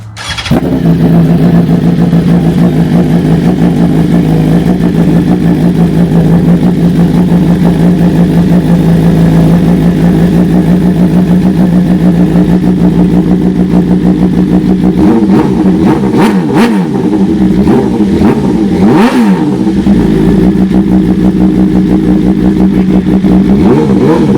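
A 2024 BMW M1000R motorcycle with an aftermarket exhaust, started and left idling loudly and close, then blipped several times in sharp revs before it settles back to a rough idle.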